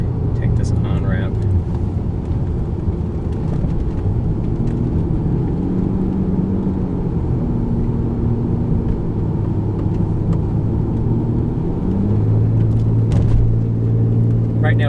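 A 2001 BMW 750iL with a Dinan-tuned V12 accelerates up an on-ramp onto the I-95 highway, a deep steady engine drone and road rumble heard from inside the cabin, rising slightly as speed builds, with someone talking over it.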